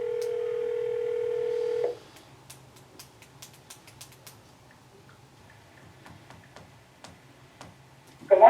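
An old landline phone gives a steady dial tone for about two seconds, then it cuts off and faint ticking clicks follow before a sudden louder sound at the end.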